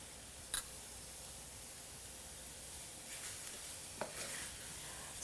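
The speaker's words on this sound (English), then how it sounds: "So all the spices are roasting together now" Spices roast in a pan with tomatoes and turmeric, giving a steady soft sizzle and hiss with a few sharp clicks of stirring against the pan, close and fairly quiet.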